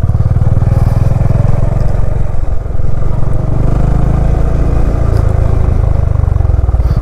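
Motorcycle running at steady speed near the sea mouth at Paradeep, Odisha, a loud continuous engine drone with rumble and wind throughout, no talking.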